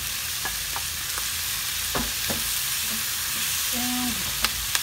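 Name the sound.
chicken sizzling as it fries in pan with eggplant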